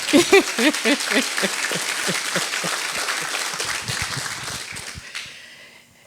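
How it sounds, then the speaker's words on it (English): Audience applause at a nonprofit gathering, a dense wash of clapping that holds steady for about five seconds before fading out quickly, with a few voices mixed in near the start. "Let's another round of applause for this woman right here."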